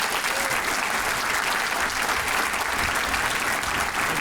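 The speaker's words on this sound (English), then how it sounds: "We applaud you." An awards ceremony audience applauds continuously, a dense, even wash of clapping from many hands throughout.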